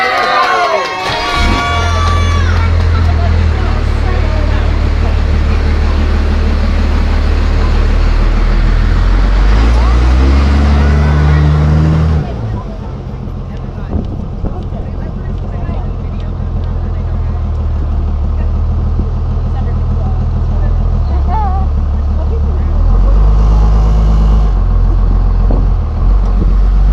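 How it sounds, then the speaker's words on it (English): Vehicle engine rumbling loudly and steadily during a dune ride, with low droning motor noise throughout, a shift in tone partway, and people talking and cheering over it. "Alright, we ready for a dune ride?"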